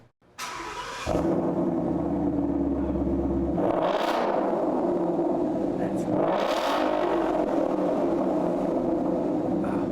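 A loud car engine fires up and revs hard, exhaust roaring through two rising and falling revs before settling into a steady, throaty idle.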